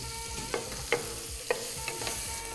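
Finely chopped onion and cumin seeds frying in a pan give a quiet, continuous sizzle broken by a few sharp spatula taps and scrapes, close up with no speech.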